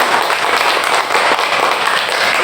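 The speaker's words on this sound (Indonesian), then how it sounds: "kita berikan tepuk tangan untuk" A classroom of students claps hands together in a loud, dense burst that holds steady for a couple of seconds without pause.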